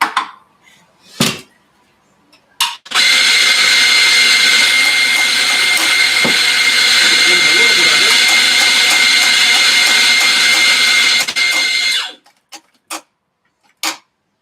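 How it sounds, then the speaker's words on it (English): An espresso machine pulls a shot through a bottomless portafilter straight into a cup of dry mocha ingredients. A steady, loud pump hum with a hissing flow runs for about nine seconds, framed by a few clicks and clacks. "we're going to pull the shot directly into the cup over the dry ingredients in order to get it to be melting"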